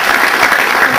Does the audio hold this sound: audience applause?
yes